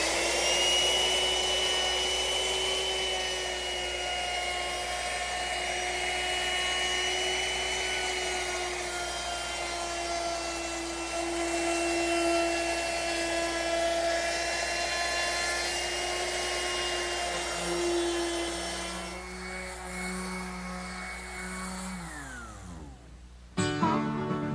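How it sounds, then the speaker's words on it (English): A router whines steadily while rounding over the edges of wooden side pieces for a rocking horse in a workshop, a sustained high motor tone that winds down as it shuts off near the end. "There's no better time than now to round over the edges of the side pieces."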